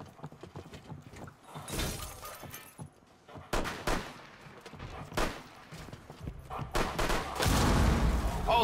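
Gunfire in Rainbow Six Siege, with irregular sharp shots and crackling bursts mixed with glass-like shattering and clattering. The shots grow denser and louder toward the end.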